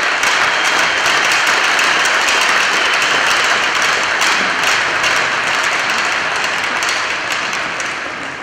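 Sustained audience applause at a memorial scholarship ceremony, a dense steady roar of many hands clapping for a recipient that carries on throughout and eases off slightly at the end.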